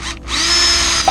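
A power drill bores through sheet metal on a 2016 Mazda 6, a brief, close, high-pitched whirring grind lasting about a second.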